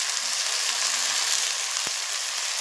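Beetroot samosa filling being sautéed in a pan over a low flame: a steady, close frying sizzle with a single sharp tap partway through, and no talk.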